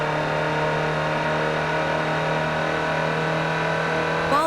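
Steady drone of a stock Land Rover Series truck engine in Forza Horizon 4, a constant mid-pitched hum held at even loudness with a slight rise at the very end.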